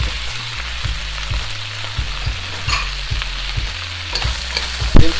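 Beef stir fry ingredients sizzle loudly in a hot wok, with steady frying hiss and a spatula scraping and stirring in repeated strokes, close and continuous.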